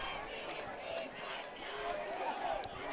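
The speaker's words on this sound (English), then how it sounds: "Nice crowd tonight." Crowd at a high school varsity football game on a chilly night, a steady, dense murmur of many voices and cheering from the stands, fairly distant and continuous throughout.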